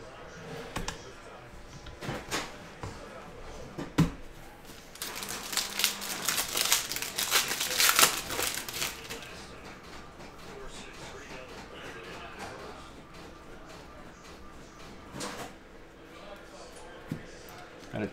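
Foil trading card packs from a Mosaic hobby box being ripped open, with intermittent crinkling and tearing that builds to a dense burst of crackling mid-way, under a person talking.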